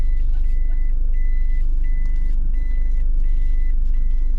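A car is parked and driven up into a garage, its engine droning loud and close beneath a regular series of short reversing beeps repeating about twice a second.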